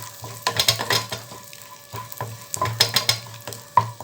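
Cashew nuts and raisins frying in a pan with stirring: bursts of sizzle and scraping come in irregular pulses, close and fairly loud, with no voices.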